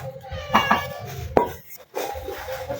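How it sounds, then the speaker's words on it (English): A spoon stirs cake batter in a bowl, giving a few sharp knocks and clacks against the bowl with scraping in between, close and fairly loud, followed by a short pause. "Stir well."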